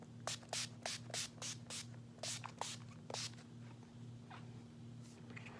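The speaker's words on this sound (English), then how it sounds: "And then I use my setting spray." A makeup setting spray, a travel-size bottle, sprays in a quick series of about ten short hissing bursts, close and fairly loud over a steady low electrical hum.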